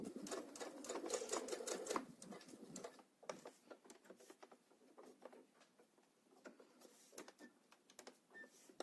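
A sewing machine stitching fabric along a seam, heard as quiet rapid mechanical clatter in short bursts with brief pauses, close but faint, with no talking.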